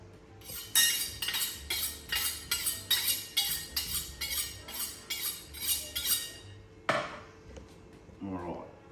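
A knife scores around the rind on the hock of a Christmas ham, giving a steady run of close, crisp scraping strokes with a clink near the end.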